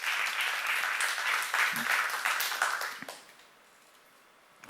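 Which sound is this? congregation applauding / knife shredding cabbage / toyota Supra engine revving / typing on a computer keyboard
congregation applauding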